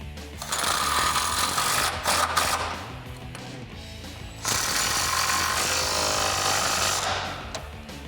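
A power tool runs up 18mm bolts on a 2014-2018 Silverado 1500 during a lift kit install, two loud sustained bursts of whirring and hammering close by, with a short pause between them and no talk.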